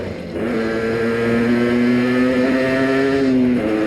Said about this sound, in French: Bah, disons, elle déconne ce matin la moto